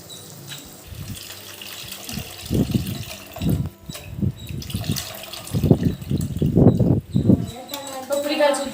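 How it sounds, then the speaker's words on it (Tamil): Dissolved tamarind water poured into a pan for fish curry in a home kitchen, a series of splashing, gurgling bursts of liquid, close and moderately loud, building toward the end. "தக்காளி வதக்கி வச்சு புளியை கரைச்சி ஊற்றிக்கலாம்"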